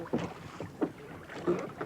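Three soft creaking knocks of oar leather in a rowlock, spaced about every two-thirds of a second, close by over quiet outdoor river air and faint water.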